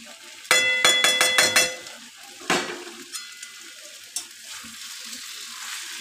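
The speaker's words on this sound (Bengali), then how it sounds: "তো একটু ভাজা ভাজা হয়ে যাক মশলাটা" Grated ginger, green chilli, cumin and Kashmiri chilli powder fry in a pan as a vegetarian curry is cooked, a sharp burst of sizzling with rapid spatula scrapes and stirring, then a second sizzle that fades to softer crackling.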